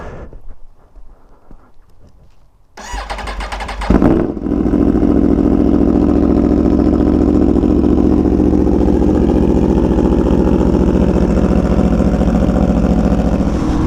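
An Aprilia Tuono V4 Factory motorcycle is quiet at first, then its engine fires up near the listener, gives a sharp rev and settles into a loud, steady, rumbling run that continues to the end.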